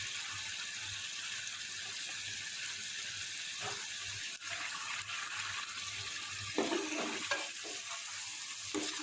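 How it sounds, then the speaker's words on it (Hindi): Goat liver frying in oil in a home kitchen gives a steady, soft, close sizzle. A few louder stirring scrapes and splashes come near the end. "अब मैं इसमें कलेजी डाल देती हूँ। कलेजी मैंने बकरे के लिए है।"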